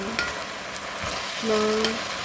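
Stir-fried vegetables sizzle in a hot pan as soy sauce goes in, a dense hiss with brief scraping of the utensil and a rise in crackle near the end.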